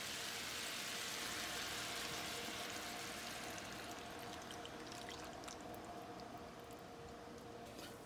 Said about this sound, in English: we're gonna go ahead and put in our coconut milk